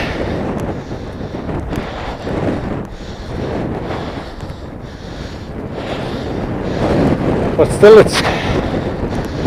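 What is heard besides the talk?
wind blowing outdoors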